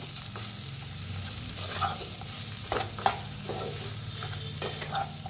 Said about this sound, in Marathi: आता मिक्स करून घेऊया